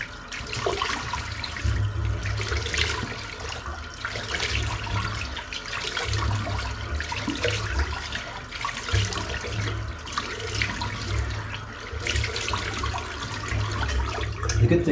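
Cold tap water runs continuously, splashing into a sink with a steady rushing sound and small shifts in flow.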